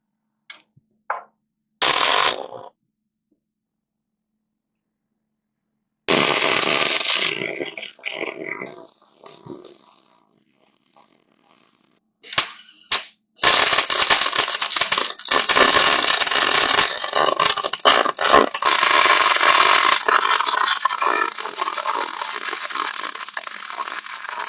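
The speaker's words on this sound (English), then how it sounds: "I will weld up that first one and then take care of the nose of the rub rail" Welding a boat's rub rail in a workshop: loud, steady crackling bursts of the arc, first a short burst, then a longer run that fades, then a sustained stretch of welding to the end, with gaps of silence between.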